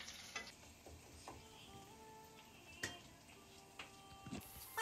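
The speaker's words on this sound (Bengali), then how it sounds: "ছেঁচা করা রসুনটা একটু হালকা ভাজা করে নিলাম।" Crushed garlic fries lightly in a pan with a quiet, continuous sizzle, broken by a few sharp clinks of stirring utensils close by.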